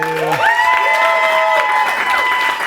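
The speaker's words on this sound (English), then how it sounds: "All right, Kyle, let's give him a round of applause." Audience applause with cheering and whoops greets a speaker at a Stanford Graduate School of Business talk, a dense, steady burst of clapping lasting a few seconds, with some voices and whistles rising above it.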